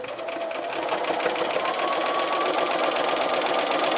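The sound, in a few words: sewing machine stitching fabric lining seam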